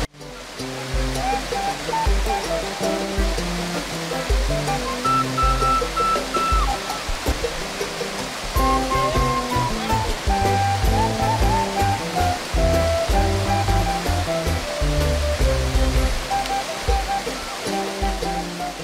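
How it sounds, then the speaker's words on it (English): Wala Falls, a waterfall in Bomfobiri Wildlife Sanctuary, roars in a loud, constant rush of water, with tonal music-like layers running through it the whole time. "we finally arrived at our second waterfall, known as the Wala Falls"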